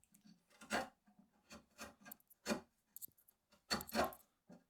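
Sharp chisel carving a wooden guitar neck, with irregular scraping and rasping strokes in short bursts separated by quiet gaps, close and moderately loud.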